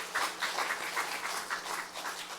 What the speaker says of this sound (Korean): 우리 서로를 격려하고 위로하는 박수 한번 치겠습니다